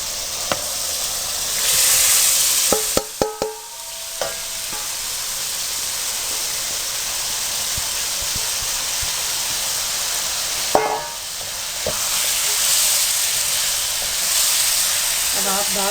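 Dal frying and being stirred in hot oil with a cooked-down spice masala for Punjabi dal chana, a steady loud sizzle and hiss throughout with a few brief clinks of a spoon.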